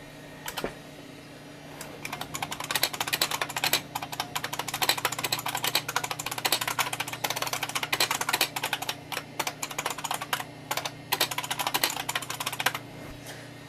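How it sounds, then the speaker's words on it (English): Dense, rapid clicking keystrokes from an IBM Model M keyboard on a 286 computer, steady bursts of typing with brief pauses, close and loud over a constant low machine hum. "You also get to hear the lovely IBM Model M keyboard in action."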